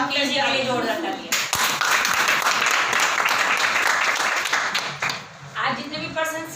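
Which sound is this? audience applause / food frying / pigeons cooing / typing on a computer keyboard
audience applause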